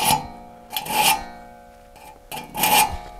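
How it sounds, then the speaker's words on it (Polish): A two-man crosscut saw, worked by one person, rasps through wood in three separate back-and-forth strokes, close and loud, with short pauses between them. "mam jeszcze trochę starej wprawy, że potrafię sam tą piłą ciąć"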